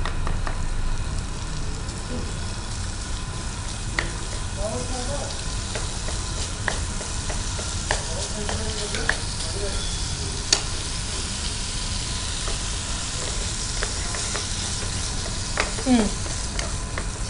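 Minced chicken frying in a pan with green chili paste and a little turmeric, a steady close sizzle with scattered pops and stirring clinks throughout, no voices.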